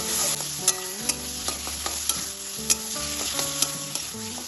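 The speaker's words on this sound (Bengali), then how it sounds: "এখন আমি এর মধ্যে দিয়ে দেবো কিমা করা চিকেনটা ভালোভাবে চিকেনটা ওর সাথে কষিয়ে" Minced chicken frying in hot oil in a pan, a continuous close sizzle with sharp clacks of a spoon stirring and scraping at irregular intervals, with no voices.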